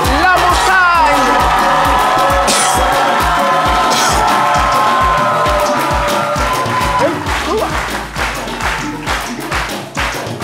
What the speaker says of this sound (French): Mesdames et messieurs, acclamation pour la montagne